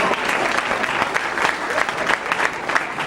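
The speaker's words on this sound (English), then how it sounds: "Y'all give this sister a round of applause." Audience applause for a young woman at a Nation of Islam youth gathering, a dense steady clapping from a crowd that holds loud and even throughout with no voices above it.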